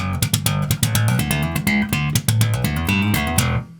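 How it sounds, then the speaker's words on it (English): A fast slap bass line played with the thumb bounce technique, with rapid percussive thumb attacks in a steady driving rhythm, loud and up close, then the notes ringing out briefly at the end. "The bounce is probably the most common way to slap."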